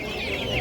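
A black chicken at a poultry market clucks in a short burst of close, raspy calls, with bustling market background noise underneath.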